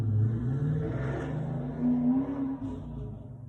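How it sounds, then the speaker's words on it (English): A loud car passes outside, its low engine rumble and revving swelling and fading over a few seconds as a steady, fairly close drone with no speech. "Sorry, there was a loud car."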